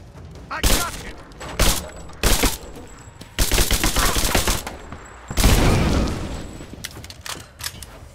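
Gunfire in the video game Rise of the Tomb Raider, several loud bursts of rapid shots separated by short pauses, with a voice calling out between volleys.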